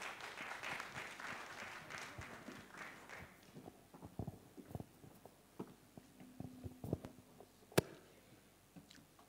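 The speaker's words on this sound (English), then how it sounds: "Can we once again give the speakers a sounding round of applause, please?" Applause from an audience, dense clapping at first that thins into scattered individual claps, with one sharp louder clap near the end.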